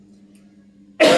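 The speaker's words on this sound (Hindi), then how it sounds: "खांसी आ रही है" A single sharp cough from a woman teaching a class, bursting abruptly after near silence with a faint low hum, close and loud, lasting a fraction of a second.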